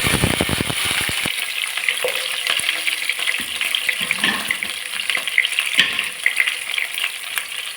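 Cinnamon, fennel seeds and shallots fry in hot oil in a pan for a chicken curry, a steady, close sizzle with occasional stirring clatter and crackle throughout.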